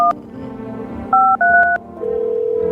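Phone keypad tones sound inside a video game: a short burst of dual-tone dial beeps in quick uneven presses, then a steady single ringing tone, loud and clean without talk.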